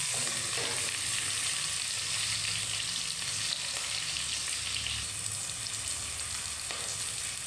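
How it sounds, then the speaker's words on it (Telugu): Green chillies fry in a pan for sambar, giving a steady bright hissing sizzle with a few faint stirring sounds underneath, close and continuous, with no speech. "తర్వాత పచ్చిమిర్చి వేసుకోవాలి. చూడండి ఫ్రెండ్స్, ఇలా వేయించుకోవాలి."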